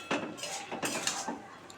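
A lid set onto a cooking pot, a few close metallic clinks and clatters in quick succession, then a faint ringing tail.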